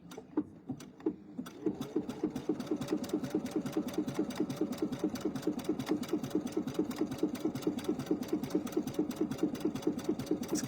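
A sewing machine works a satin stitch along the edge of rickrack, producing a fast, even, rhythmic clatter of needle strikes that continues close and steady throughout.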